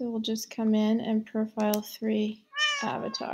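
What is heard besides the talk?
cat meowing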